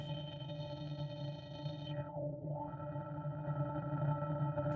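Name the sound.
synthesizer filter with drive distortion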